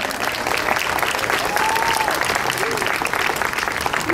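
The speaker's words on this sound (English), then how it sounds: "if we could give them each a round of applause" Sustained, dense applause from a crowd at the Indiana Jones exhibit grand opening, honoring partner Lucasfilm, with voices faintly audible underneath.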